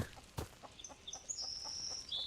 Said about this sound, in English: And there's a chicken somewhere around here as well.